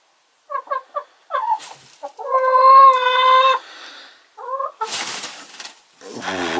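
A Polish rooster clucks in short, spaced calls, then lets out a longer, strained tonal crow-like cry, followed by more clucks and a rustle, close and distinct with quiet gaps.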